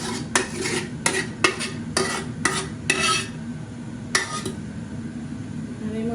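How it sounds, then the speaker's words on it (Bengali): A spoon stirring spices and curry in a cooking pot for Sylheti akhni, a run of close, rhythmic metallic scrapes and clinks against the pot with a faint sizzle between them. "তাহলে একটু নাড়াচাড়া করিলাই।"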